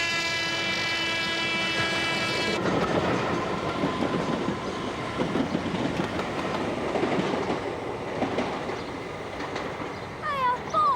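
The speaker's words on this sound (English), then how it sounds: "The train. About 400 or 500 tons of it travelling at maybe 100 miles an hour." A train horn sounds, then a 400-500 ton train passes at about 100 mph under a bridge with a loud roar and rhythmic clatter of wheels on rails, ending with a squealing screech.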